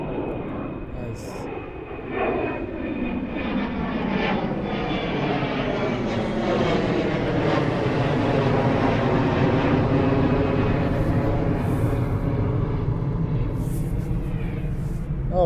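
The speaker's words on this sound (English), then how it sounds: "Oh, we have Copa Airlines 737 going to Panama City." Copa Airlines Boeing 737 jet taking off at Toronto Pearson airport on a cold day, a loud steady engine roar that builds and holds with sweeping Doppler-like tonal bands, continuous for the whole stretch without pause.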